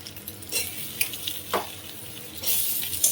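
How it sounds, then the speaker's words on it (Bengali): Prawns, onion and vegetables frying in a pan, a constant hissing sizzle broken by several scraping stirs of a spoon against the pan, close up. "সব সবজিগুলো তুলে দিয়ে ভালো করে ভেজে নেব"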